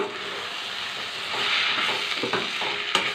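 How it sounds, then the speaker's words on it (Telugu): Potato and brinjal pieces fry in a pan with a constant hiss and sizzle, while a spoon stirs them with soft scraping clicks, close and alone without talk. "ఇప్పుడు వంకాయ ముక్కలు వేసుకున్నాం కలబెట్టుకున్నాం"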